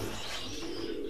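Racing pigeons at a pigeon farm coo softly and steadily, a low murmuring coo running through the whole short stretch with faint chirps above it, and no voices.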